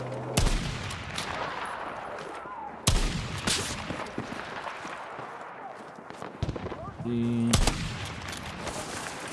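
Gunfire from a Battlefield-style video game shooter, with repeated sharp shots and bursts scattered across the scene amid a dense, noisy battle backdrop, with voices faintly present beneath.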